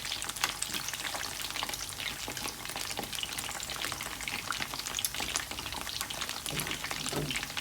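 Battered shrimp deep frying in hot oil over medium heat, a dense steady crackle and hiss with occasional louder pops and stirring clinks, close and continuous with no talk.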